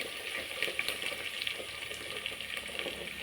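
Brinjal pieces fry in oil for a tamarind kuzhambu, making a soft continuous hiss with light scattered crackles and stirring, fairly faint and steady throughout, with no voice.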